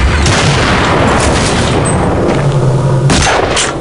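Loud, close gunfire crackles continuously in Counter-Strike Nexon Zombie's Zombie Evolution mode, with dense shots and heavy booming impacts filling the whole stretch.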